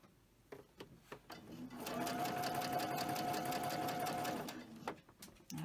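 A sewing machine fitted with a double needle starts after a few clicks and whirs steadily for a few seconds, running zigzag and straight stitches, then slows and stops with scattered handling taps.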